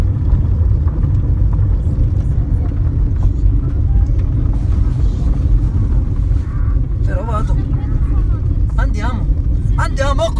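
A rally-style car bounces along a rough village road, steady loud engine and road rumble with wind buffeting throughout, while people talk over it.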